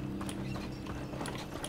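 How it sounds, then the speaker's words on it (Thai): Horse-drawn carriage hooves in the Hogwarts Legacy video game, a steady clip-clop rhythm with creaking mechanical carriage sounds, close and continuous. "รถม้า"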